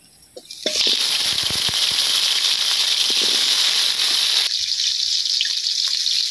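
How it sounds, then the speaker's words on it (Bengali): Potatoes hit hot oil in a pan with an abrupt, loud, close hiss that roars steadily for a few seconds, then settles into a quieter sizzle. "আলুটা একটু ভাজা নিলাম"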